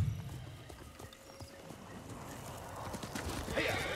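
Horse hooves clip-clopping in a video game, a steady run of muffled hoofbeats with low rumble underneath and a brief neigh-like burst near the end, heard close and moderately loud without talk.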